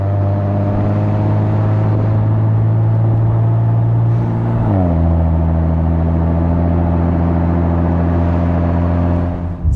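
A 2022 Bentley Continental GT Speed under way, its engine a steady low drone that drops in pitch about halfway through as it shifts, with continuous road and cabin noise and no talking.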